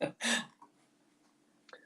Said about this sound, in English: That cough was not for dramatic effect.